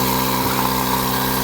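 12-volt pump running off an ALLPOWERS R1500 power station, a steady close mechanical hum with a high buzzing tone, constant and loud, no speech.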